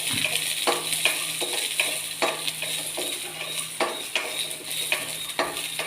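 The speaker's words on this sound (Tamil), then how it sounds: "இப்போ அதை அப்படியே வறுத்துக்க வேண்டியதுதான்." Green chilies, garlic and shallots roast in a pan over gentle heat, a steady low sizzle broken by repeated scraping and clinking of a spoon against the pan, close up with no talking.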